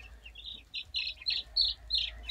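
Young chicks about two weeks old peep in quick, high, close chirps, a run of short calls repeating steadily with no talk over them.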